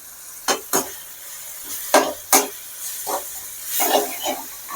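Ginger garlic paste, onion and tomato sautéing with chili powder for a Chettinad egg gravy, a soft background sizzle punctuated by several sharp spoon-against-pan stirring scrapes at an uneven pace.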